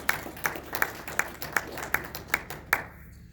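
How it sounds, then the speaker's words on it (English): A few people clapping at a LEAP Launch event on racial equity, sparse spaced claps at a slow, regular rhythm that stop short with no talk. "give yourselves another round of applause for that"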